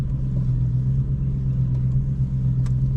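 A car engine idles steadily in a low, even rumble with a strong constant hum, continuous and close, with no one speaking.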